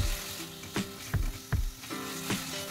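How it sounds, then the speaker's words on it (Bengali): Pre-fried potato pieces are stirred through spice masala in a pan, giving a low continuous sizzle broken by several soft scraping knocks of the spoon. The sound is close, moderate in level and without speech. "আলুর টুকরোগুলো মশলার মধ্যে ভালো করে কষিয়ে নিচ্ছি।"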